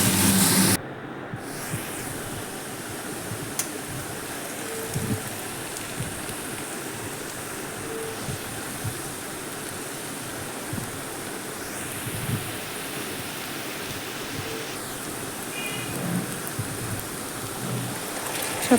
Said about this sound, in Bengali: আলু, গাজর আর পেঁয়াজটাকে এবার আমি খুব ভালো করে ভেজে নেব।